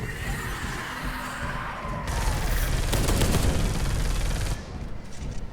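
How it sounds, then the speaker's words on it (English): Dense, rapid gunfire from the video game Space Hulk: Deathwing rattles loudly for a few seconds in the middle of the clip. Rumbling game ambience runs under it before and after. "All that gunfire in the dark room definitely puts a strain on your eyes."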